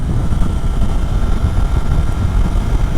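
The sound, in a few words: Triumph Daytona 660 motorcycle riding at speed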